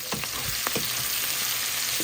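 Eggplant, potato, onion, green chili and garlic fry lightly in oil, giving a steady close sizzle with a few soft stirring scrapes.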